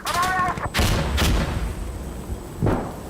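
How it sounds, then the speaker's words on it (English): A grenade bursts in the tactical shooter Insurgency Sandstorm, a loud broadband boom with rumbling tail amid scattered gunfire and brief voice chatter, followed by further heavy thuds over about three seconds. "Throwing a grenade!"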